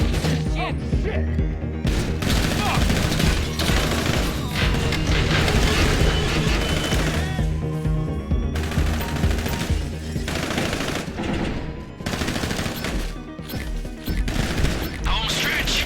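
Dense, continuous gunfire and automatic weapon bursts in the GTA Online Diamond Casino Heist video game, loud and close with crashes and impacts mixed in, under a busy game soundscape.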